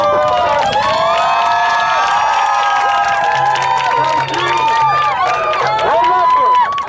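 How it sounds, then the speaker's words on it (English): A large crowd at a Free Palestine rally in Minneapolis cheers and claps loudly and continuously, with shouts and whoops rising over sustained applause. "can I get a round of applause?"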